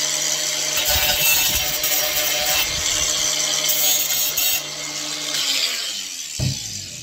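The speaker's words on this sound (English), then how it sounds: "If you want, you can just tidy it up with a" An angle grinder cuts and tidies the edge of brick-effect kitchen tiles, a loud, continuous high-pitched whine that holds steady up close before winding down near the end.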